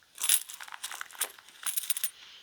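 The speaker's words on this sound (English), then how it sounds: "My Louis Vuitton coin purse." Small Louis Vuitton coin purse, likely with metal fittings, set into a stiff patent leather handbag, giving a string of light clicks, clinks and rustles up close with no talk.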